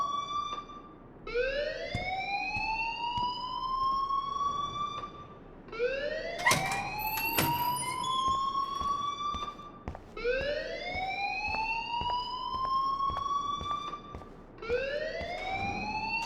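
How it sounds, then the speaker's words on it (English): A fire alarm blares in the video game Life Is Strange, a loud electronic siren sweeping upward in long repeated wails with short gaps between them. "please turn off that alarm since that's your job"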